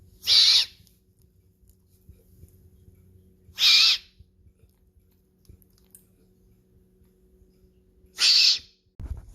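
Baby eagle owl gives three loud hissing screech calls spaced several seconds apart, close up, with faint rustling between them.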